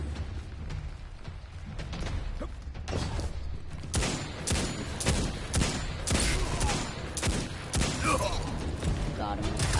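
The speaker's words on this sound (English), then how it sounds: "Forget it, I'm using my pipe pistol." Pipe pistol gunfire in a capture-the-zone video game, a loose run of sharp shots over noisy game sound with a voice talking across it.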